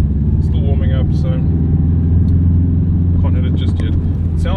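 A Subaru GC8 WRX is driven while still warming up, its steady engine drone continuous and close throughout, with someone talking over it at intervals.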